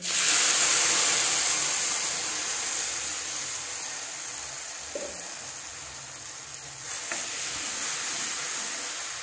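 Fried spices sizzle and hiss steadily in a pan as a gram flour and yogurt batter goes in for a Bengali curry pakoda; the frying noise is close and continuous, with a brief stirring knock partway through and no talking.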